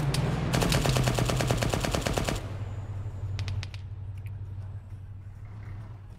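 Rapid machine-gun fire in Arma 3 hammers out a long fast burst of sharp shots, then stops abruptly, followed by a few scattered distant shots over a low engine-like hum.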